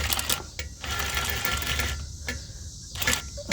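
A ratchet or power tool loosens the upper starter bolt on a Mercedes-Benz S550 4MATIC in quick rattling bursts, with short pauses between runs and the workshop otherwise quiet.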